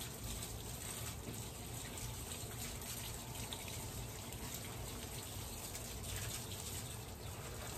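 A hose pours a continuous gushing stream of water over trees in a yard, close and steady throughout, with no voices over it.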